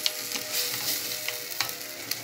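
Wine-deglazed pan for mushroom risotto sizzling and frying steadily as the alcohol cooks off, with stirring scrapes mixed into the continuous close hiss.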